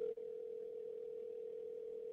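A telephone call tone hums steadily and faintly on a single pitch, continuous after a brief dip at the start.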